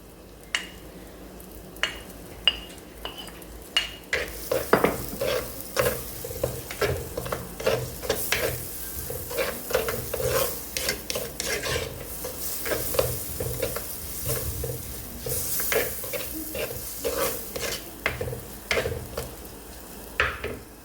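Ingredients frying in a pan with salt and chili added during a home lunch cook, with steady sizzling under sharp, irregular scrapes and clinks of a spoon stirring against the pan, close and without speech.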